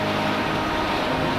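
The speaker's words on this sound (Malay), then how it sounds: "Kuat gila angin." Strong wind roaring steadily through a rural orchard during a heavy rainstorm, a loud, continuous broadband rush with no pauses and no voices.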